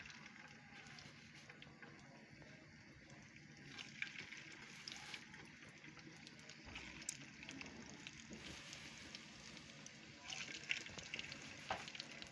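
Spiced minced-meat kebab mixture fries in hot oil in a deep pan for a budget breakfast, giving a steady, continuous sizzle with faint crackles, moderately close, swelling slightly louder midway, no talking.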